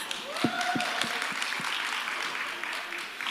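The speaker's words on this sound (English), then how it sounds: "Y'all clap it up for that one." Audience applause at a creative-economy wealth conference in Little Rock, a dense patter of clapping with a few sharper claps up front and faint overlapping voices, steady then easing slightly toward the end.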